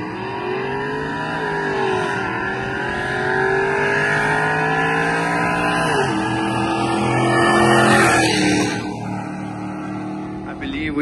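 Tuned trucks drag racing, including a full bolt-on Tahoe with cam gears, their engines roaring and climbing in pitch through the gears, swelling loud as they pass and fading as they pull away.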